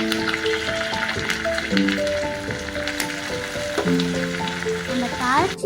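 Curry leaves and asafoetida hit hot ghee in a tempering for ven pongal, giving a close, steady sizzle and crackle over soft background music.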